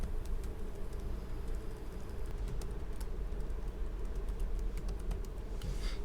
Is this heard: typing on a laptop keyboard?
yes